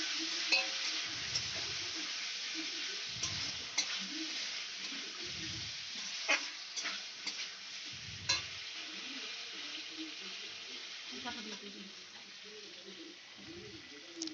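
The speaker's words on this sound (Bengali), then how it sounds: "আমার আলু কষানো হয়ে যাচ্ছে।" Potatoes fry in a pan for a Bengali potol chingri curry, a steady soft sizzle broken by repeated scraping stirs and light clinks of the spoon, with low thumps now and then.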